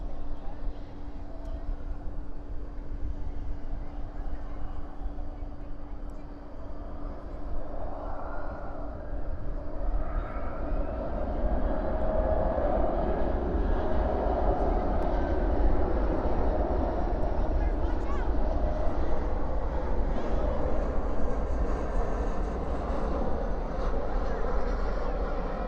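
An Airbus A319 from Sioux Falls lands at night at DFW with spoilers up and reversers out. A distant jet rumble builds midway into a sustained, broad roar of reverse thrust.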